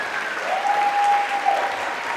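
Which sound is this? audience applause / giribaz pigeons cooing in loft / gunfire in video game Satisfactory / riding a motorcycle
audience applause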